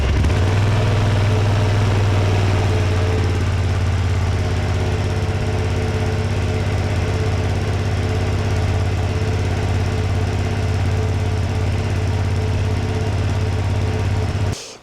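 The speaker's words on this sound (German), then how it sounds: "machen wir das ganze Ding mal an. Und zwar lege ich das Mikrofon jetzt direkt hinter das Motorrad und dann hören wir uns mal," Ducati Panigale V2 S 2025 motorcycle engine running with the microphone placed right behind the bike, a loud steady idle rumble lasting throughout before cutting off abruptly at the end.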